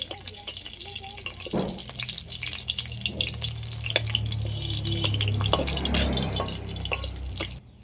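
Dry red chillies and bay leaves frying in hot mustard oil in a kadai, a soft crackling sizzle with scattered pops and spits, fairly quiet and close, no voices.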